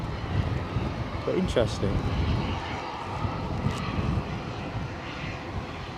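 A SunExpress airliner taxiing at Edinburgh airport, its jet engines a steady broad roar that stays even throughout, with someone talking briefly over it.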